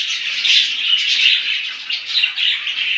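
Dense, continuous high chirping and twittering from many budgerigars, steady and busy throughout with no pauses.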